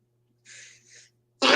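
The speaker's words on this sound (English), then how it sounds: "I just had a sneeze coming on" One person sneezes: a quiet two-part intake of breath, then a sharp, loud burst at the end, alone with no talk.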